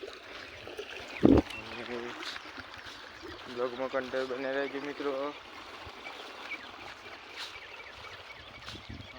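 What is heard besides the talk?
irrigation water flowing into a farm field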